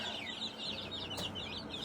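A turkey on a porch near chicken wire clucks in quick, soft repeated chirps, faint and fairly distant over a steady outdoor background.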